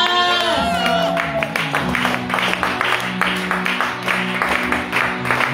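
A church congregation cheers and acclaims the Lord, a sustained crowd roar of shouts, whoops and clapping that rises after a sung note and fills the space.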